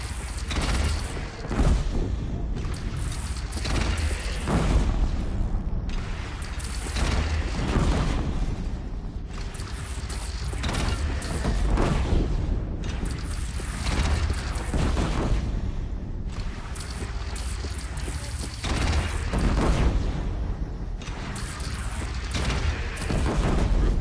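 A mounted cannon fires in Horizon Zero Dawn amid repeated heavy booms and blasts, loud and dense over about twenty seconds.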